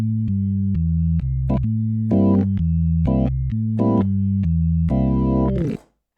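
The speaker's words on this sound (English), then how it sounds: "let's dive in with the first walking bass" Hammond organ playing a walking bass line in C, with distinct stepping bass notes and chord stabs in an even, swinging rhythm, clear and close before cutting off at the end.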